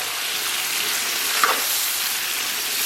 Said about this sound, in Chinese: 再简单给它煸炒一下。